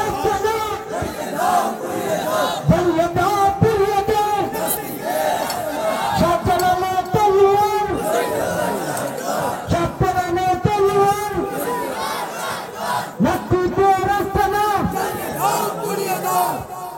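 A large crowd chants slogans in loud, rhythmic unison at a religious sermon, voices rising and falling in repeated bursts across the whole stretch, with amplified speech mixed in.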